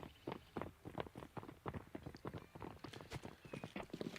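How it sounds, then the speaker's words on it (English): Horse hooves on the Inferno map in Counter-Strike clip-clop steadily, a fast run of hollow, evenly spaced strikes at moderate loudness. "But I heard a horse, I did."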